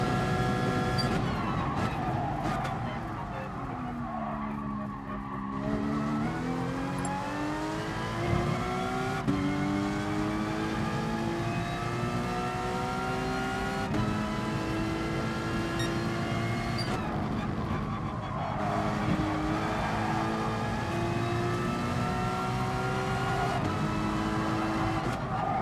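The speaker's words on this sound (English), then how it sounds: "Look at the speed of that Corvette" A Corvette race car engine in GT Sport screams as it accelerates, its pitch climbing and holding through upshifts, loud and steady with other race cars droning close by.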